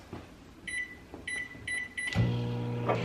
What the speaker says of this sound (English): Throw this in the microwave to melt.